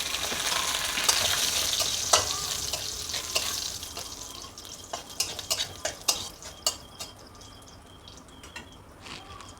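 Dried red chillies and two bay leaves frying in a pan of oil with turmeric and chilli-powder paste, a steady close sizzle broken by sharp crackles and stirring clicks, with some water running in the background.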